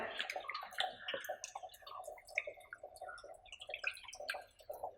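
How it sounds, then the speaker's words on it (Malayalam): Fresh water is poured and splashed by hand while raw shark meat is washed in a village kitchen. Faint, busy trickling and dripping splashes continue throughout with no talk. "നമ്മൾ പച്ചവെള്ളം ഒഴിച്ചു ഇതൊന്ന് വൃത്തിയാക്കി കാണിച്ചു തരാം"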